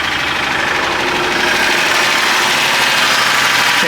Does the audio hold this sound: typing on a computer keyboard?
no